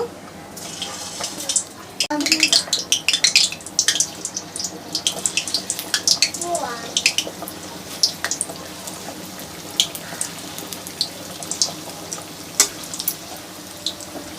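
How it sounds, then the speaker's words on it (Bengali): Semolina snacks fry in hot oil close by, loud bursts of sizzling, crackling spitting early on settling into a steady fizz with scattered pops. "এবার এক এক করে দিয়ে ভেজে নেব"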